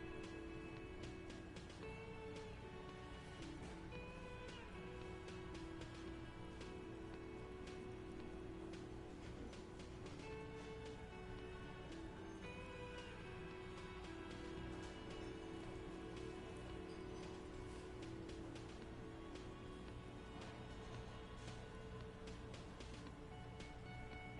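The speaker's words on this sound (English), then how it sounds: "Outside, spring rain seeps into the cracks in the walls and the cobblestone streets," Spring rain falls steadily in the Disco Elysium video game, a soft continuous patter on city walls and cobblestones with no voices.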